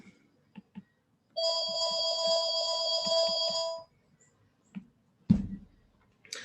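A mobile phone ringtone plays during a lecture, a bright electronic melody with steady tonal notes lasting about two and a half seconds, set among faint tapping and handling sounds and followed by a sharp thump.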